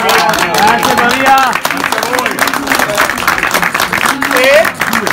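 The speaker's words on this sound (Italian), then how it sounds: "noi come Darsena facciamo un applauso meritatissimo a Maria" A room of people at a birthday party bursts into lively applause with steady clapping, while cheers and chatty voices rise over it throughout.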